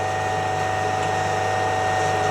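A CMT 300x3.2x30 mm, 72-tooth circular saw blade cutting 90 mm pipe gives a loud, steady, sustained whine with a constant hum beneath it and no talk.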